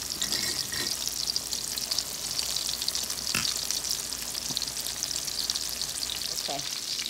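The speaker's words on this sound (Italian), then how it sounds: "Sto friggendo il mio pesce." Fish frying in a pan at home, a steady loud sizzle with crackles throughout and occasional stirring clatter.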